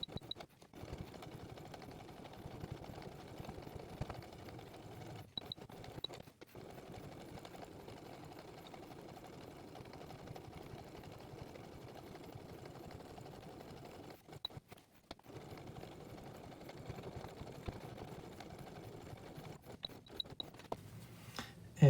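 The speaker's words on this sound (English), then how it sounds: "Now we're going to do our final stitching." A sewing machine runs steadily while stitching the final seams of a fabric face mask, a close continuous whirring hum with a few short pauses and restarts, no talking.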